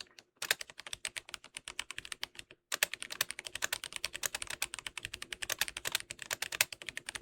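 Fast typing on a 60% mechanical keyboard, dense rapid clacking keystrokes close up, with a short pause before the typing resumes at a steady pace.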